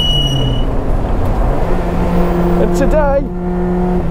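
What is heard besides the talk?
Lotus Elise Cup 260 engine revving with new exhaust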